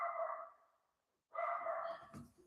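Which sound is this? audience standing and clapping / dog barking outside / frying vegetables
dog barking outside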